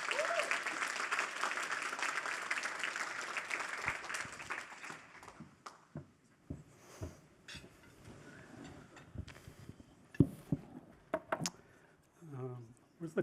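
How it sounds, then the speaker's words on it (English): An audience claps loudly at a computing prize event for about five seconds. The clapping tapers off into scattered claps, handling noises and someone speaking near the microphone. "keep those hands clapping"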